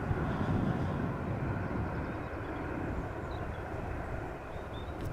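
A Boeing 787 Dreamliner at Amsterdam Schiphol Airport, landing in a slight crosswind, gives a steady, loud broadband engine roar that holds evenly throughout without any talk.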